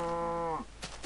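A cow in the Minecraft video game gives a single drawn-out moo, clear and fairly close, followed by brief scuffling game sounds.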